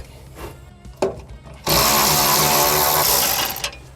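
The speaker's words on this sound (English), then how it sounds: "now I'm gonna take our T40 socket and then pull out all these Torx screws along the Utilitrack" Power driver with a T40 socket backing Torx screws out of a truck cab-side Utilitrack, a few light clicks followed by a loud, sustained whirring burst close by.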